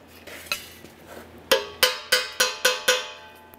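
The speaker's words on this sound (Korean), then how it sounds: "망치로 때려서" A hammer strikes welded steel during a mailbox build, first several lighter taps and then six sharp, ringing metallic blows in a steady rhythm, close and clear.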